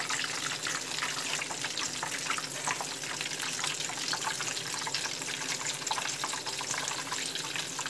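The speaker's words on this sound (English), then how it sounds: "Let's make it and fry up to golden brown." A Korean corn dog fries in hot oil with a dense, steady hiss and crackle of bubbling that stays even and unbroken throughout, with no voices.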